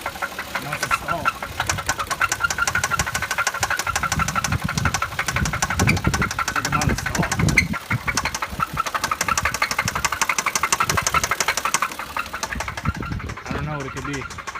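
Engine of a 2004 Lexus IS300 with a 2JZ-GE inline-six and bent valves, idling steadily with a rapid, regular knocking tick throughout, close and fairly loud, with a brief sharper catch near the middle.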